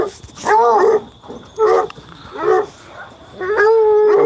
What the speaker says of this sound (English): That's the dog that I got that likes to climb trees.